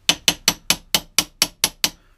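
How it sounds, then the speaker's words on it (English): A small pin hammer strikes a pin punch to drive a roll pin through a Land Rover Detroit TrueTrac differential, nine sharp metallic taps in a quick, even rhythm, close and clear with no voices. "A little pin hammer and a little pin punch just to"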